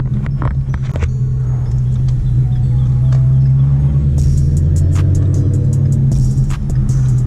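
A 2016 Ford Mustang engine running close by, a steady low rumbling idle with faint clicks and brief noisy bursts layered over it.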